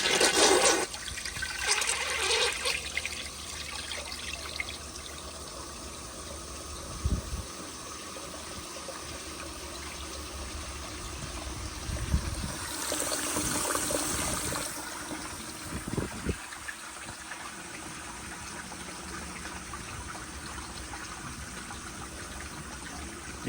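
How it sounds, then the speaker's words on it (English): A Seasons kindergarten toilet flushes with its siphon jet plugged and the tank overfilled, starting with a loud rushing surge, then a long swirling gush and trickle as the bowl drains and refills, heard up close. "So here is another flush with the plug siphon jet on an overfilled tank."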